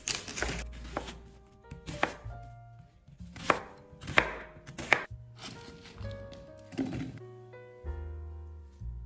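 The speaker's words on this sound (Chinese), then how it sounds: "把土豆和洋葱也切一下" A knife chops potatoes and onions on a board for a Shanghai-style tomato beef brisket stew, giving irregular crisp chops in short bursts over soft background music.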